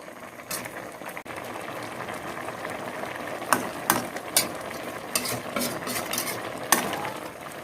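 A pot of fish stew with snakehead fish and tomatoes boils away, giving a continuous bubbling simmer broken by several sharp clicks and clinks from utensils against the pot, heard close with no one speaking.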